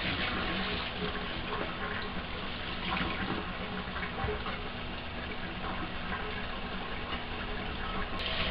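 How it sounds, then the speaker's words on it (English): Water flushed back through a still's tube to rinse it, a continuous gushing, hissing flow that stays even and close for the whole stretch. "And I run some water back through the other way."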